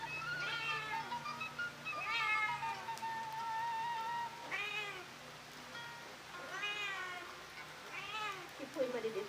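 A cat meows repeatedly in a rural village home, several drawn-out meows spaced across the stretch, fairly close, with faint talk in the background.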